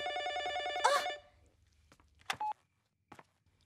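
A telephone bell rings once, loud and close, with a short electronic beep and a couple of faint knocks trailing after in an otherwise quiet room.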